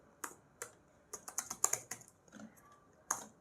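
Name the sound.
typing commands on a computer keyboard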